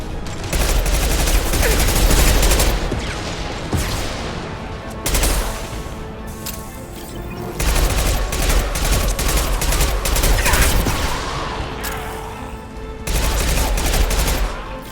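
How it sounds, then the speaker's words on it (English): Bursts of loud gunfire and heavy impact blasts erupt from a squad firefight in the Mass Effect 2 video game, coming in dense volleys separated by short lulls, with combat effects and background music. "Firing an impact shot!"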